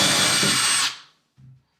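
A power drill with a 3/4 inch Forstner bit whines steadily for under a second, then spins down to silence, followed by a faint low thump.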